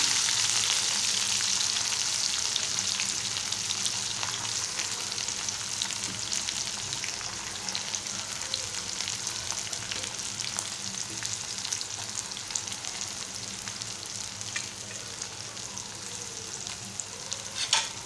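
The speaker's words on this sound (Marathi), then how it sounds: "आता हे छान तेलात भाजू देणार आहोत दोन मिनटं तेलात छान भाजू द्यायचं आहे" Chopped onion and green chillies fry in oil for a Malvani-style tomato bhaji, making a loud, steady sizzling hiss with occasional scraping stirs. The sizzle runs close and continuous, with no voices.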